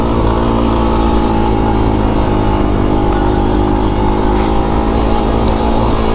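A Honda TRX 250X ATV engine drones loudly and steadily during an off-road test ride through cactus terrain, a close, continuous buzzing roar with wind noise.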